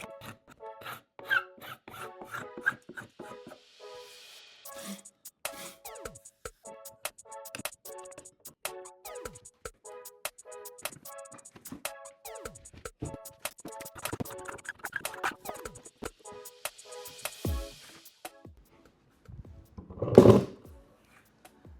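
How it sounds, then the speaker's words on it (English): Scraper dragged across a glued end-grain wooden cutting board, taking off dried excess glue in repeated rasping strokes, close and rhythmic, with occasional pauses and a sharper scrape near the end. "I like to use a scraper to go ahead and scrape the excess"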